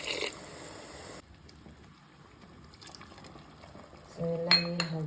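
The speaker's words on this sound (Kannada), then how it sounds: "ಇದಕ್ಕೆ ನೀರು ಹಾಕೋಬೇಕು" Water goes into a pan of frying keema masala, a brief splash and pour followed by a long quieter stretch, then louder clattering scrapes of a spoon mixing close by.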